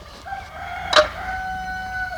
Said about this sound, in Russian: Соседи петухи поют.